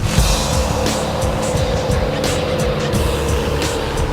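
Loud, steady engine roar of a pickup truck driving down the road while towing a large gooseneck trailer, heard close from inside with constant road rumble.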